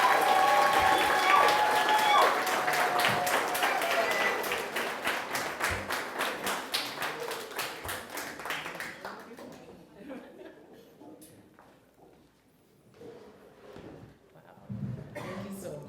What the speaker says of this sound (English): Can you round of applause for Anjanette Dyer Monroe?